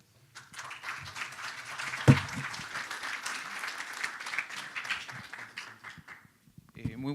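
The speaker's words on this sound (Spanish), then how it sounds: "Recibámonos con un caluroso aplauso." An audience applauds steadily for several seconds, fading near the end as a voice begins speaking.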